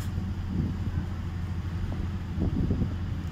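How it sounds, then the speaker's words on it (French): Wind gusting against a microphone outdoors, a steady low rumble with slight swells, no talking. "il y a du vent et je suis en extérieur, je m'en excuse"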